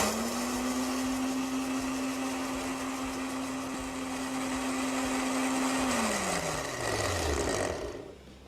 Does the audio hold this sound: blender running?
yes